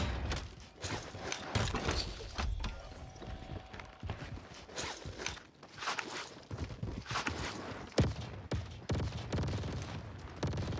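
Rapid enemy laser gun fire in a Rebirth Island shooter match crackles in dense, repeated bursts across the whole stretch. Sharp shots overlap with clattering footsteps and other battle noise, loud and close.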